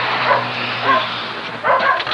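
A young registered bluetick hound barking and yipping nearby in a few short bursts over a steady background hum, with no talk.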